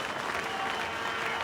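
A cricket crowd in the stands applauds a century by Steve Waugh in a Test against Bangladesh in Australia, with steady, dense clapping washing across the ground at a distance.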